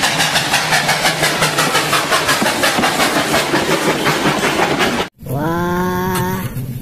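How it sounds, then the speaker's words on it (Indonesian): Rapid rhythmic chuffing of a toy steam train runs steadily and loud, then after a brief break a toy whistle sounds with stepped tones. "Kereta api uap."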